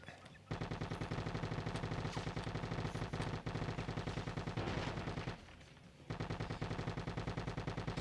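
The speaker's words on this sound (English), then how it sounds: "who is doing the shooting?" Rapid automatic gunfire from Bad Boys: Miami Takedown, loud dense bursts of rattling shots that run almost continuously with one short pause.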